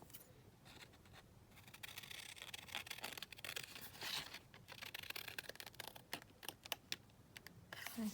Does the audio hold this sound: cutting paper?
yes